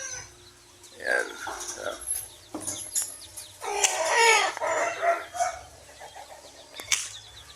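Chickens and newly hatched chicks in a farm pen: close clucking and squawks mixed with high chick cheeping, with busy calls peaking near the middle.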